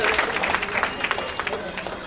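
A crowd claps loudly at a mushaira poetry gathering, with dense, steady applause and a murmur of voices throughout.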